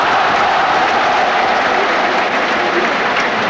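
Crowd at a 1982 World Cup qualifying football match in New Zealand gives a steady, broad round of applause, a dense wash of distant clapping and murmur from the stands lasting throughout.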